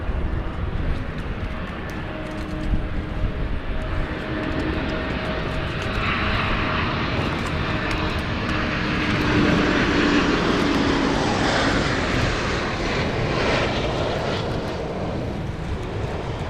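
Airliner engine spooling up at London City Airport, a distant steady jet roar and whine gradually building, heard alone in open air.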